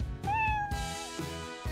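A single clear, drawn-out cat meow rising then holding steady, fairly close and moderately loud, with faint background noise and no talking.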